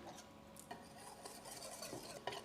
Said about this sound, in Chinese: 我们先把这个粘米粉还有这个水先混合均匀